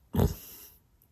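A single short, breathy snort or huff from a cat close by at a door, soft and brief, fading into quiet.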